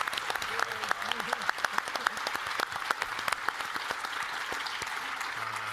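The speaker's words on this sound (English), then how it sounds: "Let's give them a big round of applause." A keynote audience breaks into applause after the final session, a dense steady patter of many hands with a few sharper claps standing out, fairly distant and moderately loud throughout.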